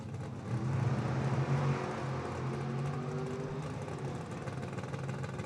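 A dragster launches off the starting line at a drag race, heard as a faint, distant engine drone with a brief swell early on, then a steady low hum.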